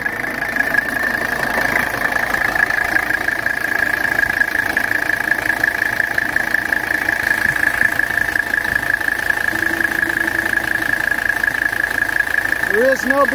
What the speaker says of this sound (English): Extremely healthy 617 engine.